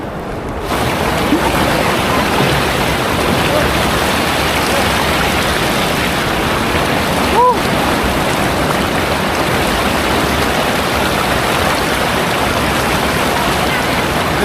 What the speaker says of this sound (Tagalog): Ganda ng agos dito.